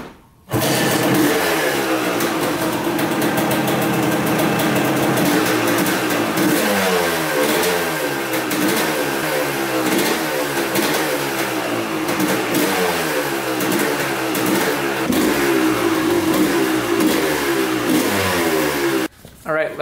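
A vintage Honda CR250 two-stroke dirt bike engine runs loud and close for the whole stretch at a fast idle, with a steady raspy burble and small throttle swells.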